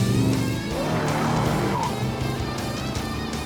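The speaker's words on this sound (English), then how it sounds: "we just got a call about a race car running red lights in town" A driverless cartoon race car called Blurr speeds through town, its engine roaring steadily and loudly throughout with a rising squeal of tires partway through and no voices.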